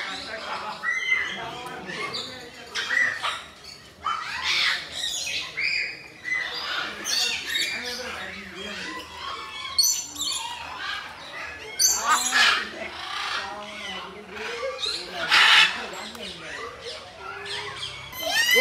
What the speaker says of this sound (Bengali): এই দেখো টিয়া পাখি